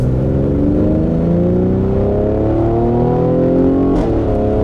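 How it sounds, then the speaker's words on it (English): A 2017 Mercedes-AMG C43 Convertible with a sport exhaust drones loudly as revs climb in a rising engine note, then a brief sharp pop of exhaust crackle comes on the downshift from third to second. "If we downshift from third to second, you can hear the crackles."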